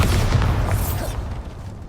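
A Bombarda explosion spell in Hogwarts Legacy gives a loud, deep boom with rumbling low end that decays over under two seconds.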